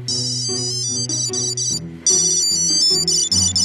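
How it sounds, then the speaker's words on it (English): A Tile tracker's tiny speaker plays a loud, bright repeating ringtone melody, continuous and close, with no voices over it. "Tile has a tiny speaker that rings loudly"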